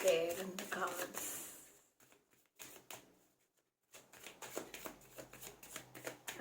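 Tarot cards being shuffled and pulled, a fluttering riffle that gives way to a quick run of crisp card snaps and taps, with a voice speaking over the start.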